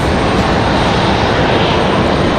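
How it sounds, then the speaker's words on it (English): An Endeavor CRJ regional jet, flight 5310, departs Raleigh-Durham International Airport with a loud, dense, continuous engine roar close by and no break or fade. "Our last departure, that CRJ Endeavor 5310"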